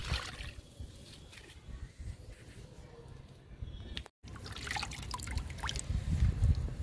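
Liquid fertilizer trickles and drips onto a coleus plant in a garden, faint and close, with soft splashing that pauses briefly midway and grows fuller toward the end.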